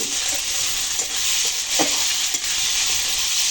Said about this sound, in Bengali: আমরা পেঁয়াজটা ভেজে নিচ্ছি